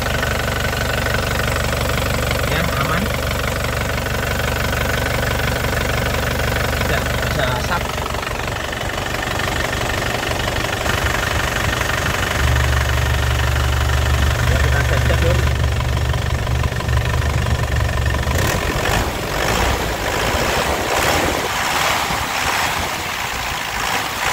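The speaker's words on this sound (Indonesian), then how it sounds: "ini langsung cegreng ya, langsung nyala mesinnya" A 2014 LS Turbo engine idles warm with a steady, slightly knocking mid-pitched rumble, with wind buffeting the microphone and someone talking over it.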